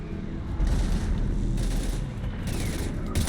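Rapid bursts of gunfire from the video game Mass Effect 3, with dense overlapping shots and heavy booms filling a chaotic combat scene throughout.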